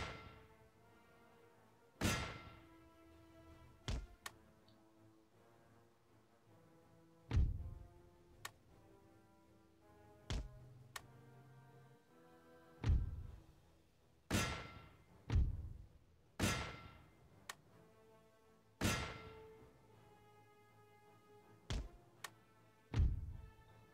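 Cannon volleys fire in the Napoleonic-era strategy game Napoleon: Total War, a dozen or so sharp booming shots spaced irregularly over a low sustained musical backdrop, some close together in quick pairs.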